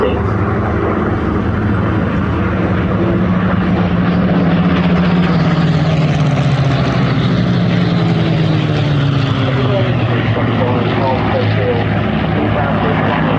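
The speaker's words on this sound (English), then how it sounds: "going in front of us now is the Pittsburgh Mark 14, being flown by Nick Gray, leading Christophe Jacquard in the Mark 19 with the contra-rotating prop" Several Spitfires, a Mark 14, a Mark 19 with a contra-rotating propeller and a Mark 18, fly past at an airshow. Their loud, steady propeller-engine drone shifts in pitch as they pass, under a commentator's voice.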